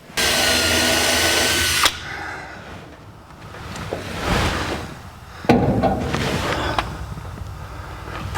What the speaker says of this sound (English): And drill some holes.